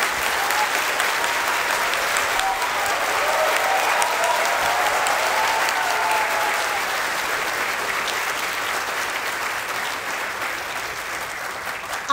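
Loud, sustained standing ovation from a large college audience at Hansraj College, steady and dense throughout with no speech over it.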